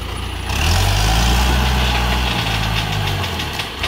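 A diesel tractor engine runs loud and close while pulling roots out during land clearing, a steady low rumble that holds for several seconds with no talk over it.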